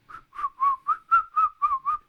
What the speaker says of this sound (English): I will do an odd whistle